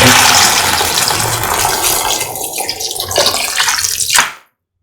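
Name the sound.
pouring 500 ml of water into curry pot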